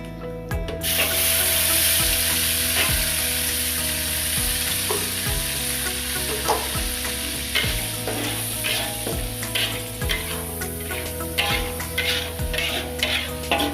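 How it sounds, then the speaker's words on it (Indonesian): Ground spice paste sautéing in oil in a wok gives a continuous close sizzle, with regular scraping and tapping strokes of a spatula over it and no talking. "Lalu kita tumis dulu bumbunya ya. Di sini kita sudah siapkan kuali dan kita taruh minyak secukupnya."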